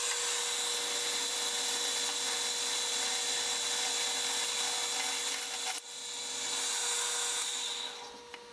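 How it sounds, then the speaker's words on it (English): A hand saw cuts excess material off a metal nut being made for a John Deere 110 tie rod. A continuous, bright rasping grind breaks off once before resuming and fading near the end. "Now I'll saw off the excess material."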